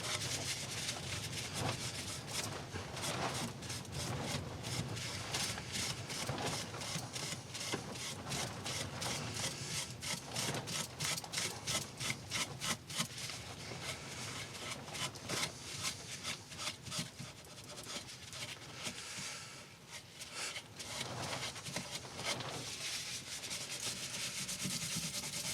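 A turned scrap-wood bowl spinning on a lathe while its outside is rubbed clean of wax, giving a steady, close sanding-like friction hiss that runs the whole time with slight surges and dips.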